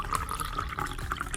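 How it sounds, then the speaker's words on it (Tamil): Water pours into a cooking pot during preparation of pumpkin kootu curry, a short close splashing and gurgling trickle lasting just over a second. "அதுக்கு பிறகும் அதுக்கு தண்ணி ஊற்றிக்கலாம்"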